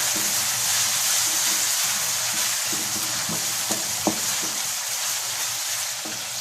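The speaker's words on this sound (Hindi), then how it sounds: "अब लहसुन अदरक का पेस्ट डाल देते हैं। इसको भी अच्छे तरीके से थोड़ा ब्राउन कर लें।" Steady, continuous sizzling of garlic-ginger paste browning in a hot pan, with a few soft clicks of stirring along the way.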